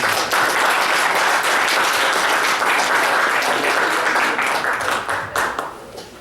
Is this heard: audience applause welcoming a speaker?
yes